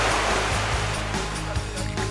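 Ocean surf washes steadily onto the shore while anglers fish from the beach at Port Elizabeth; a continuous, fairly loud broadband rush with gentle swells, and no voices.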